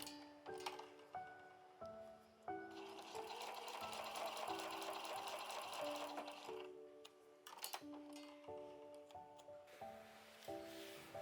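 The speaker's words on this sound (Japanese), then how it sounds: "ちょっと斜めに縫うのがポイントですよ。" A sewing machine stitches a diagonal seam across patchwork fabric for a small pouch, its rapid needle running in close bursts broken by brief pauses and clicks, with no talking.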